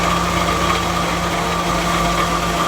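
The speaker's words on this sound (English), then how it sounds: "And it also resulted in the engine revving faster, so that indicates good as well." An MGB GT engine idles just after a carburettor adjustment, a loud, close, continuous hum with a steady low throb and a faint mechanical buzz, no talk.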